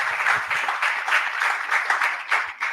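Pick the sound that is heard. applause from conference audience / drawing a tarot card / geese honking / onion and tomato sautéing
applause from conference audience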